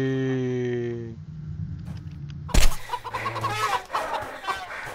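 A chicken in the video game CHKN gives clucking calls, then a sharp thump is followed by busy game noises, all moderately loud and with no talking.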